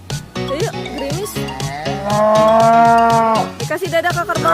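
A water buffalo in a rice field lets out a long, loud moo, sustained for over a second, with shorter grunting lows before and after it.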